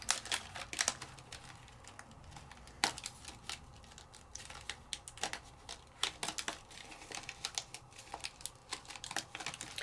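Dry clicks and light crinkling taps as die-cut paper craft pieces are popped out of a sheet by hand, irregular and close, repeating quietly over a faint background hiss.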